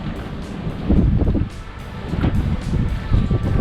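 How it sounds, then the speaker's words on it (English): A gust of wind blows across a sheltered bay, rumbling loudly against the microphone in uneven surges, swelling around the first second and again later, with faint water noise underneath. "Here comes a gust."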